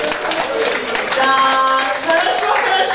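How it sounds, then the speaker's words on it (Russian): Wedding guests clap in a brisk burst, partly masked by tonal music or voices ringing through the room, with the applause swelling toward the end. "Аплодисменты тестю."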